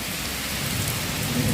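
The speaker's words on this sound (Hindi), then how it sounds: "ये देखो बारिश आने लगी है बहुत तेज" Heavy rain pours down steadily and close by during a stormy spell with a power outage, a dense continuous hiss with no voices.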